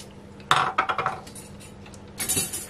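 A utensil clinks against a bowl while ingredients are stirred, a quick run of bright knocks followed by a pause and a second short scraping burst, close and fairly crisp.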